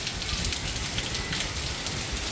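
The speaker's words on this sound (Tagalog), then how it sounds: "Lakas ang ulan, pero kalma." Heavy rain from a typhoon pours down in a dense, steady hiss, loud and close with no pauses.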